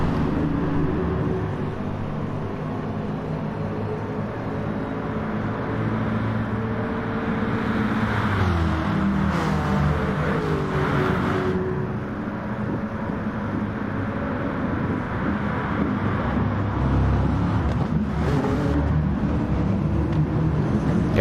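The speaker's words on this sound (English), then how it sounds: "There's nothing quite like the sound of a big V8 hauling ass down the straightaways." A big V8 race car engine runs flat out down the straight at Monza, a steady loud onboard drone that stays dense and continuous throughout, with shifts in pitch midway and no speech.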